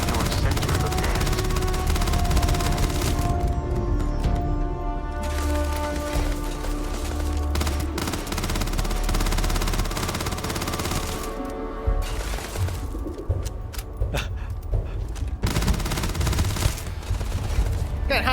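Rapid bursts of gunfire from the space video game Starfield, dense and continuous with heavy low rumble and layered game sounds, shots firing in quick overlapping volleys throughout.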